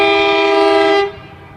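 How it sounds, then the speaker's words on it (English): A Sydney Trains V-set pulls into platform 1 at Tuggerah, sounding a loud, sustained horn that holds a steady chord for about a second before cutting off, leaving low rumble behind. "Got a VSET approaching platform 1,"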